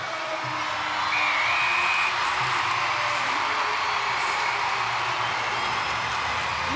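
A netball crowd at John Cain Arena cheers and roars steadily, a broad sustained wash of voices and whoops heard from within the stands, swelling slightly early and holding loud throughout.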